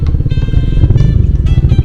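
Bajaj Dominar 400 motorcycle riding along a road near Yellapur, its engine droning loud and steady up close with rhythmic low pulsing throughout, no talk.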